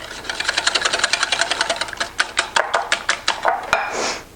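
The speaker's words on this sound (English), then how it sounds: "So just whisk this together until it's smooth." A whisk beats the wet ingredients for pumpkin maple scones in a bowl, fast, even, rhythmic clicking strokes up close, slowing toward the end, with no talking.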